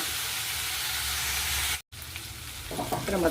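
Capsicum rice with vegetables sizzles steadily in a hot pan while being stirred, a continuous close frying hiss that briefly cuts out, then returns with scraping stir sounds.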